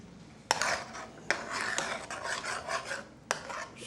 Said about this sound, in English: Stir it up, put it, be sure it's mixed good.